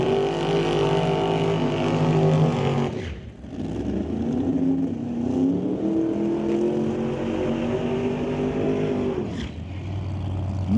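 A Camaro at an old-time drag racing event at Mission Raceway Park roars loudly down the lane, its engine revving hard through gear changes with brief dips before climbing again.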